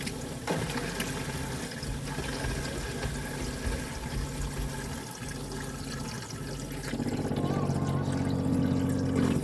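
Water runs steadily from a campervan tap while the fresh water system fills, a continuous splashing flow that grows louder and fuller near the end, with no talk over it.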